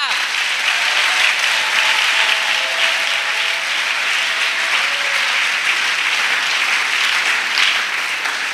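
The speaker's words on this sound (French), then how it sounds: "Acclamation à Jésus. Clap." A church congregation claps steadily and loudly throughout, a dense continuous wash of applause with faint voices underneath.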